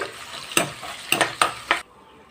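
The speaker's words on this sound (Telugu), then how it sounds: "రెండు ఉల్లిపాయలు ఐదు ఆరు పచ్చిమిరకాయలు తీసుకున్నానండి ఇది కొంచెం వేగాలి మెత్తబడాలి" Sliced onions and green chillies fry in a pan for fish curry, a close sizzle broken by four sharp spatula scrapes and clinks before it cuts off abruptly. No one speaks.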